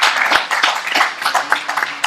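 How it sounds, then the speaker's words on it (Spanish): A crowd at a Catholic congress session applauds the session chairman, a dense burst of many hands clapping across the whole moment, fairly close and steady. "Y otro aplauso para el presidente de la mesa."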